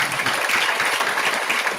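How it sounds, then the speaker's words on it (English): An audience at a campus talk on students and entrepreneurship claps steadily for a student's suggestion, a dense, even patter of many hands. "Let's give a round of applause"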